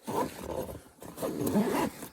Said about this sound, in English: The pulls on these zippers, by the way, make it just super easy, and they don't, you know, they don't come off.